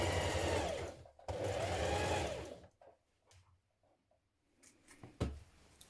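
A sewing machine runs two bursts stitching a 1.5 cm seam on a long coat, the steady mechanical whir stopping and starting, followed by quieter handling noises and a sharp click near the end, with no voices.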